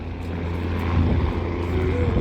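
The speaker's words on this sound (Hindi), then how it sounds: "वहाँ से हेलीकॉप्टर उड़ान भर रहा है और बहुत ही ज़्यादा साउंड मचा रहा है भाई" A helicopter lifts off from the Kedarnath helipad in the mountains, its rotor and engine roaring as a loud, steady drone with a strong low throb that continues without a break.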